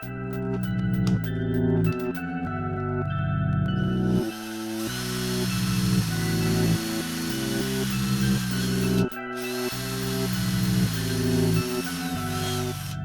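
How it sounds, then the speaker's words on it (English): A power drill whirs in repeated bursts, pausing and restarting several times as it bores into wood, close and fairly loud. "I'm drilling holes so that I can thread the blade through"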